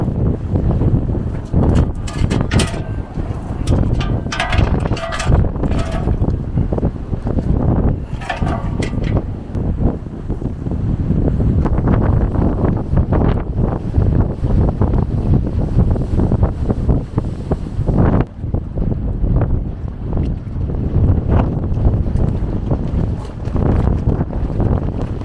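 Strong wind blows hard outdoors beside moored boats and a parked van at Ironbridge Gorge. Loud, constant gusts buffet the microphone and roar without a break for the whole stretch.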